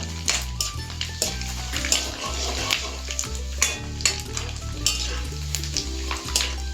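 Grated coconut roasting and being stirred in a pan for a kakka curry, a steady sizzle with repeated scraping and clinking of the spoon against the pan, close, over background music.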